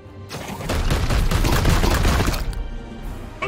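Dense, rapid bursts of support gunfire rattle continuously in Warhammer 40,000: Chaos Gate Daemonhunters, a loud, sustained fusillade that tapers slightly toward the end with no voices.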